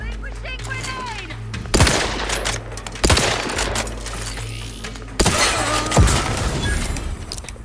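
Sharp blasts with shattering debris in The Outer Worlds 2, three loud close bangs spaced a second or two apart, each trailing off into crackling noise and rumble.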